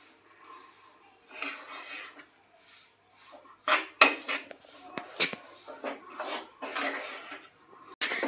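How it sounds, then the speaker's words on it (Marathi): Jaggery for crisp sesame chikki is stirred continuously in a pan while it melts, giving irregular scraping and clinking of a spoon against the metal, with a few sharper knocks, close and moderately loud. "गुळाला आपल्याला सतत ढवळत राहायचं आहे"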